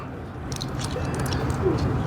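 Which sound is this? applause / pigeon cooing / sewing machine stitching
pigeon cooing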